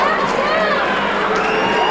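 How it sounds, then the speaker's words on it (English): A packed high school basketball crowd at a 1997 boys' Division 2 final, Shea fans booing the Portsmouth cheerleaders during a timeout: a loud, sustained wall of massed voices and jeers with no break. "the Portsmouth cheerleaders were faced with resounding boos from the Shea fans"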